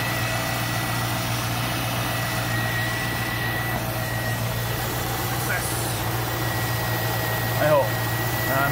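A C5 Corvette with a broken harmonic balancer idles with a steady, heavy low drone and a strong vibrating hum, an unbroken engine tone throughout, with occasional faint speech in the background.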